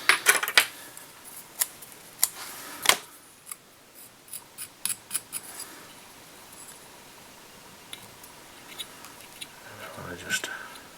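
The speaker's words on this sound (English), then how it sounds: "Again, cut it off roughly level with the body." Scissors snip through fly-tying materials for a Curry's Red Shrimp Globrite No 4 salmon fly, with a quick cluster of close, crisp clicks early on, then a few more scattered cuts, and someone speaking softly in between.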